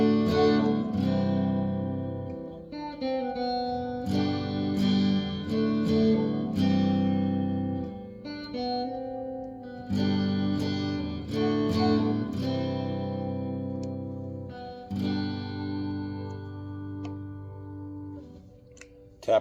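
Gibson Les Paul Modern Studio electric guitar, 2024 Smokehouse Burst, played through its coil-tapped bridge pickup, ringing out in strummed chords and melodic phrases with sustained notes and brief pauses, close and steady with no talking.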